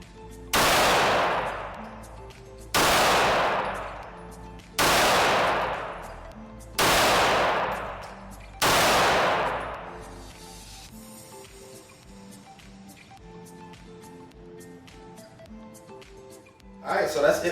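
A Girsan Regard MC Beretta-style pistol fires five loud, sharp shots at a steady pace roughly two seconds apart, each echoing briefly outdoors, followed by quieter handling sounds and a faint voice.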